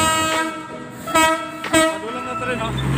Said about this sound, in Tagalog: Padulang na tren